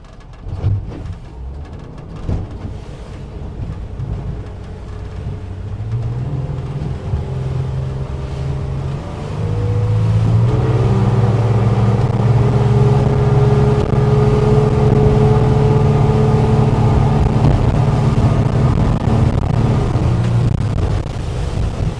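A 2023 Jeanneau NC 795 motorboat throttling up in rough water, its engine droning louder and steadier from about ten seconds in, with broadband rushing water and hull noise throughout; no voices.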